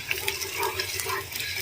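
Cumin and fenugreek seeds frying in oil in a pan for a Telugu tomato-coriander chutney, a soft steady sizzle with light crackles and stirring scrapes, close and brief.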